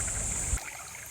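Spring water trickles beside a lake at a national arboretum, a steady close babble with a bright hiss that thins slightly partway through.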